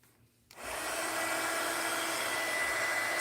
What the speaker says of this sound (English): Stay far away if you're using your dryer around the glue because it'll bubble it and it just won't work.